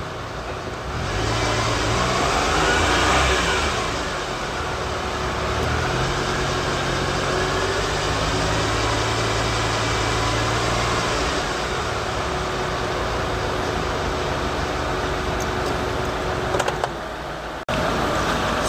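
A 2011 Kia Morning (All New Morning) with about 75,000 km sits idling under 1000 RPM, producing a steady low engine hum with a faint whine, constant and fairly loud throughout.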